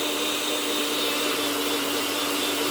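A Princess 212011 blender/chopper runs continuously at full speed, giving a steady, loud, close motor whir with a high whine. It holds unchanged from start to finish with no talking.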